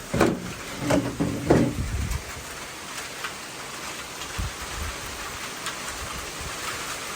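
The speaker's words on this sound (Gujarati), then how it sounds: "તો ભાઈ વરસાદ શરૂ થઈ ગયો છે મિત્રો, જોરદાર." Heavy rain hisses steadily on surfaces in Germany, a constant wash of noise with a few louder knocks and bumps near the start.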